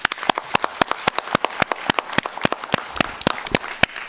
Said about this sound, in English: I just really think they need to be applauded even before they come.